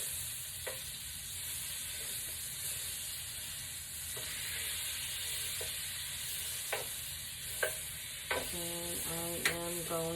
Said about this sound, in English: I'm going to put it right in our pan that we already have on medium heat, and I'm just going to let that melt.